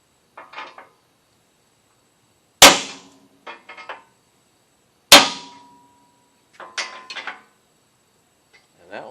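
A hammer strikes a center punch on a steel oil pan skid plate for a Jeep TJ Wrangler, two sharp loud metallic raps spaced apart, with quieter clinks and tool handling between them in an otherwise quiet room.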